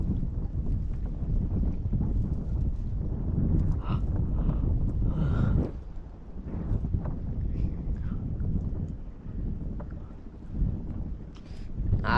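Strong wind gusts buffet a small fishing boat at sea during monsoon-season mullet fishing, a close, constant low rumble that swells and dips throughout, with faint voices at times.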